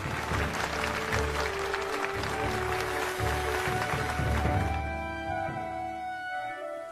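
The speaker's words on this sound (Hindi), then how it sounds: "ताली बजाओ" Students clap together in a classroom scene of a Hindi film, a dense burst of applause with tonal background music and voices mixed in, cutting away near the end as the music continues alone.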